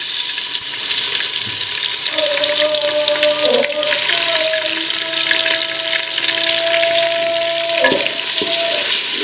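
Garlic and green chillies frying in a pan with okra give a steady, close sizzle and crackle that runs without a break, with a faint tonal hum sounding in the background.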